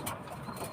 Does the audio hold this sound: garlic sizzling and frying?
no